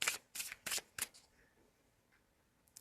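Tarot cards being shuffled and drawn up close: four quick, crisp riffling bursts in a row, then quiet with a faint soft shuffle and a small snap at the end.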